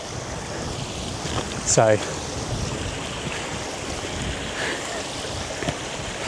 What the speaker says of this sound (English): the pressure of the wind is just pushing through every little valley.